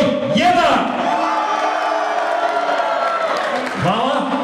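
A school hall crowd cheers for couple number one at a student competition, loud whoops and shouts swelling together with some rising yells, sustained throughout.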